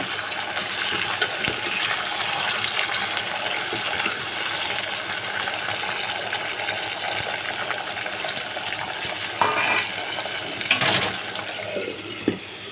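Hilsa fish pieces frying in oil in a pan, a steady dense sizzle and crackle running throughout with scattered small pops and clinks of utensils near the end.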